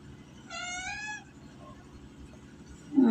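A cat gives one clear, drawn-out meow close by, followed by quiet background and a brief bump near the end, with no talking over it.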